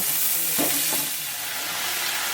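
Pumpkin greens being stirred into papaya and potato in a pan, a soft steady sizzle with a couple of brief scraping stirs near the start, close and alone.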